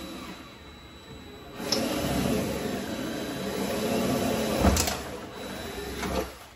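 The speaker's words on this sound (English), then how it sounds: "And we got the second hole drilled in the bottom." A power drill bores a hole into the bottom of a 2015+ Chrysler 200 for a spoiler install, a steady whirring grind lasting several seconds with a brief sharp spike near the end before it stops.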